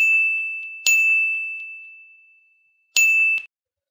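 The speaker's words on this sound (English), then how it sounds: "now when we go in each of these boxes it should play a ding sound." A bright bell-like ding sound effect from an Unreal Engine 4 game trigger box rings out and decays slowly, then a second ding sounds a couple of seconds later and is cut short; loud and clean with no talk.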